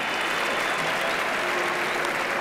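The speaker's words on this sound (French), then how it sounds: "ça mérite des applaudissements hein, pour cette performance" Steady, dense applause from a crowd at a padel tournament match, continuous and even throughout with no pauses.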